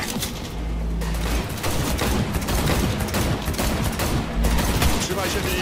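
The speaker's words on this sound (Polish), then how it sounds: "Jedź, Jackie! Strzelaj!" Sustained heavy gunfire in the video game Cyberpunk 2077, continuous machine-gun bursts with booming low-end hits throughout, loud and close.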